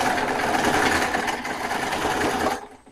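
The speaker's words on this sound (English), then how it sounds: "Then you take your sewing machine and you just stitch all the way around" A sewing machine stitches around fabric for an Ankara bow, a steady close mechanical whir that stops abruptly near the end.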